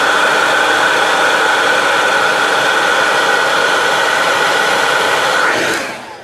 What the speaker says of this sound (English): now we're going to curl them with our blow dryer